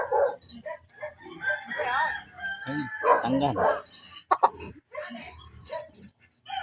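Fighting rooster bred for cockfighting crows in harmonic bursts at moderate distance, mixed in with ongoing conversation among several people.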